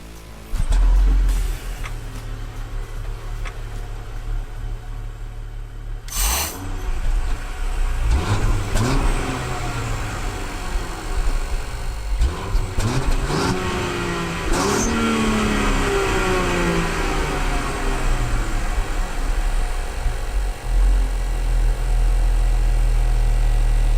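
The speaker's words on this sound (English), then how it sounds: "the exhaust sound is somewhat muffled and uninspiring" A Range Rover Sport P400 engine and exhaust rev and accelerate for about 24 seconds: a steady, muffled drone with rising and falling pitch sweeps, and a brief sharp burst near the middle. No talking.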